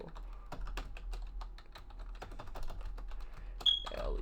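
Rapid, uneven keystrokes clatter on a computer keyboard, close and steady over a few seconds with a sharp tap near the end, no voices.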